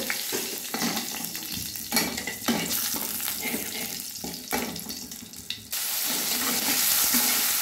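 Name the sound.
bay leaf, dried chilies and cumin frying in hot mustard oil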